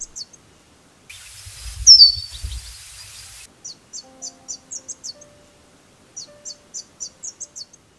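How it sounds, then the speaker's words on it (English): Scarlet Honeyeater in dense sclerophyll forest on the coastal ranges of New South Wales, giving quick series of high, thin chattering notes in rhythmic bursts, with a brief broadband rustle partway through. "That is the call of the Scarlet Honeyeater."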